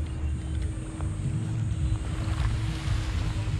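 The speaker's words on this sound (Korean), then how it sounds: "파도 소리 들으면서" Ocean waves on the beach at Gili Trawangan, a steady broad wash of surf with wind noise, continuous and fairly loud with no talking.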